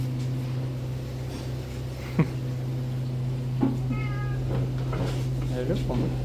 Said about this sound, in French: Ça va être rempli de petits chats, ça va être très mignon.